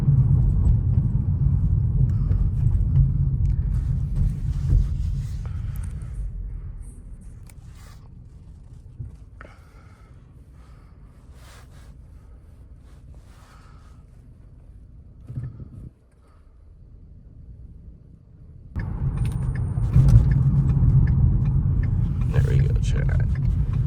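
Police car surging hard under full throttle from a standstill, a loud low engine roar that fades into quieter cabin rumble midway before swelling back strongly, with people talking over it.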